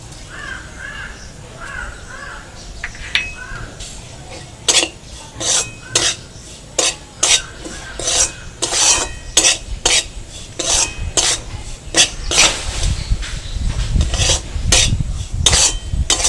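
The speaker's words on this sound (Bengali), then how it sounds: "সুজিটা নাড়া হয়ে গেছে, নামিয়ে নিচ্ছি।" Semolina stirred in a pan with a little black cumin, a spoon scraping and rasping against the metal in quick, uneven strokes that grow busier and louder toward the end.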